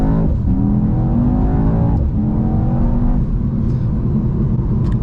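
A Mercedes E63 S with a twin-turbo V8 and 9-speed gearbox accelerates hard, its engine note climbing steeply, dropping briefly at quick upshifts, then rising again, loud and close.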